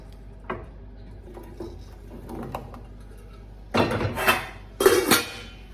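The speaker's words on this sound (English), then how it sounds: "So once the oil's heated, I just tip the chips in now" Potato chips are tipped from a bowl onto a baking tray of heated oil for homemade oven chips, with a couple of loud close rattling, clattering bursts after quieter faint knocks and handling sounds.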